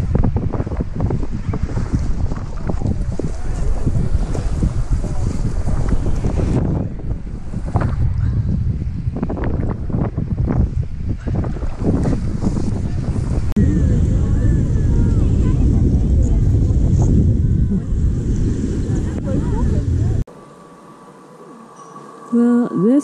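Strong wind buffets the microphone while a boat engine hums and water rushes past the hull.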